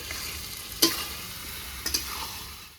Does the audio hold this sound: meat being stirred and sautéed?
yes